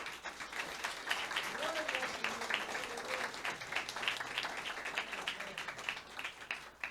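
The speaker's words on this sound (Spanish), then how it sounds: "Un aplauso para esta dama" Applause from a church congregation honoring a widowed sister, dense clapping sustained throughout with some voices mixed in underneath.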